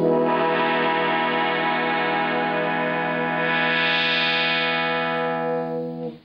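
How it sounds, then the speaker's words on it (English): Guitar synthesizer played through a floor unit with footswitches, a rig in Montserrat, 1981: a sustained, harmonically rich synth-guitar tone holding steady with a brightening filter sweep midway, then fading out at the end. "this is the rolling guitar synthesizer"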